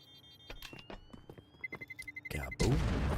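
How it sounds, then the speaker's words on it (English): A bomb detonates in a pro league video game match, a loud broadband blast near the end that follows a run of quick rhythmic clicks and scattered gunfire-like pops, with the explosion ringing on to the close. "Kaboom. Goes off the bomb."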